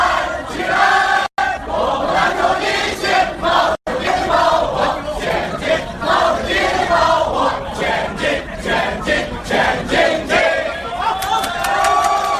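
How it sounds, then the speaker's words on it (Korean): Dozens of Chinese people loudly sing the Chinese national anthem while occupying a street in Namba, Osaka, waving flags in front of the Marui department store. Dense crowd voices chant and shout continuously, loud and close, with two brief cuts to silence. "중국인 수십 명이 오사카 시내 한복판에서 오성홍기를 펼쳐들고 거리를 점거하며 중국 국가를 큰 소리로 열창하는"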